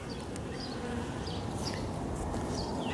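A steady, dense buzz of many honeybees humming together nearby at a hive that survived a polar vortex, continuous throughout with faint higher whines drifting over it.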